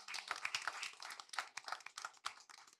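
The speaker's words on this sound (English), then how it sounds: "Please give our panel a round of applause." Brief, fairly faint applause from an audience at a school debate competition, scattered hand claps rippling for a few seconds with no talking.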